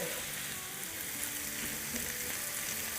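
Chicken mince frying in a pan, a dense, steady sizzle that continues evenly and close throughout.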